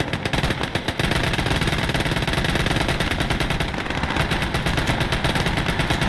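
Rapid, continuous machine gun fire from a Sherman tank in Call to Arms Gates of Hell Ostfront, loud and close with dense, rhythmic bursts running throughout and no talking.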